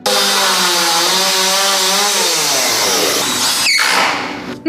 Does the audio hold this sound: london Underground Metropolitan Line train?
no